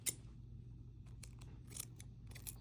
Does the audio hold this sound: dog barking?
no